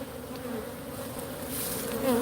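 Honey bees in an opened hive make a dense, steady buzz close by that grows slightly louder near the end, with no voices.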